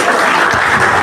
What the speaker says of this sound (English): Please let me, I want you to applaud them, please. Give them applause.